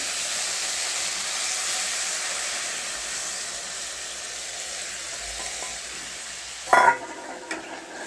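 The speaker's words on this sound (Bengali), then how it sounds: "দেখুন আমার ভাজা হয়ে গেছে, আমি এই দুধটা দেবো।" A steady hiss from frying in a pan on the stove runs throughout, then a sudden loud burst of sizzle near the end as milk hits the hot pan, followed by a few stirring clinks.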